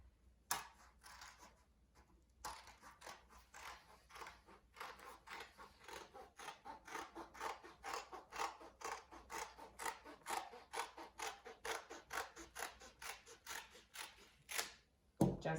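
Scissors snip around craft material for a Thanksgiving centerpiece of colored feathers, a long run of close, crisp, rhythmic cuts after a couple of quiet opening snips.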